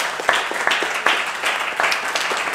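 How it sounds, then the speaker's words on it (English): Audience applause for a panel discussion at the close of a talk event, a steady mid-level patter of many hands with a few sharper individual claps standing out, sustained across the moment without speech. "Round of applause,"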